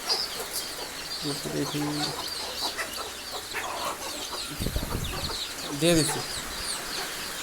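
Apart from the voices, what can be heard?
chickens clucking in the henhouse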